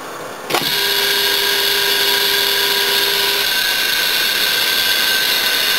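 An old quarter-horsepower electric motor rated around 1450 RPM, with worn bearings, switches on with a sudden click and then settles into a steady, loud mechanical hum and whine that holds constant to the end.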